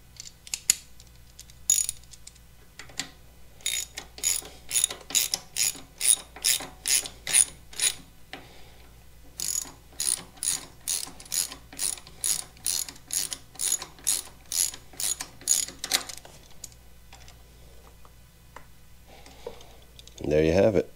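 Hand ratchet clicking as it drives a T27 Torx bolt on the foot control of a 2022 Harley-Davidson Street Bob 114 motorcycle, close-up bursts of rapid rhythmic clicks separated by short pauses, with a brief louder clatter at the end.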